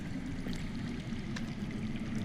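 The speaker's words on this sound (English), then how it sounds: "I hear water. From underground." Underground water flowing in the Game of Thrones video game, a soft, steady rushing and gurgling murmur, faint and continuous with light splashy flecks.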